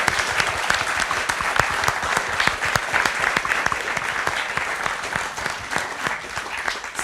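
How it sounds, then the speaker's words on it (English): An audience at a film premiere panel gives a sustained round of applause, many hands clapping steadily and densely throughout, fairly close, with faint voices underneath. "Can we have a round of applause?"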